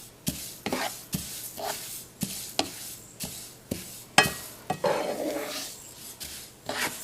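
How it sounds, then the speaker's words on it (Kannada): Poha is dry-roasted in a pan without oil and stirred repeatedly, giving a rhythmic series of scraping, rasping strokes about every half second, close and fairly loud with no talking. "ಅದು ಚಟ್ಪಟ್ ಅಂತ ಸೌಂಡ್ ಬರುತ್ತೆ, ಅದುವರೆಗೂ ಹುರಿಬೇಕು."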